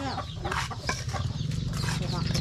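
Chickens clucking loudly and continuously as they are fed, a dense busy flock sound close by, with a person talking over it.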